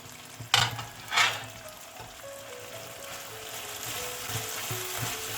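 Chicken with ginger, garlic and green chillies sizzles and crackles in a hot pan, with two louder bursts near the start as it is stirred, then a steady frying hiss.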